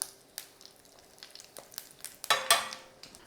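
Dried chili, curry leaves and hing frying in a pan for Karnataka-style bisi bele bath, with a soft, close sizzle under scattered spoon scrapes and stirring clatters, and a brief louder burst of crackling near the end.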